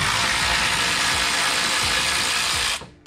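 Ratchet loosening a 10mm bolt on a Toyota Corolla E210 during a cold air intake install, a steady close mechanical clicking that runs for nearly three seconds and then stops abruptly.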